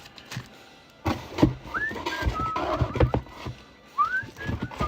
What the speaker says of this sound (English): I'm like whistling into the microphone.